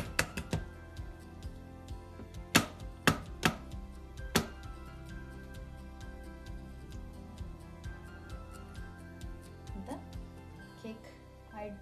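Knife cutting through a chocolate cake on a plate, a series of sharp clacks and taps against the plate, several grouped early then sparser, with a voice talking alongside.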